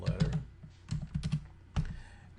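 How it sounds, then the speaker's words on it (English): Keystrokes on a computer keyboard come in quick irregular bursts with short pauses between them, heard close and alone while text is entered in C# code. "I'm going to be typing in a letter."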